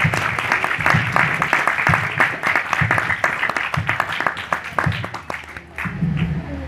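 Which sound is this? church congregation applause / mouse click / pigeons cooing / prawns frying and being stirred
church congregation applause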